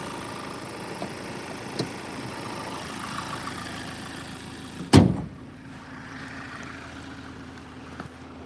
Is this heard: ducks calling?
no